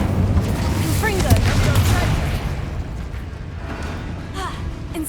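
Spell blasts from Bombarda and Confringo in Hogwarts Legacy, a run of booming explosive bursts, loud and close, under someone shouting spell names.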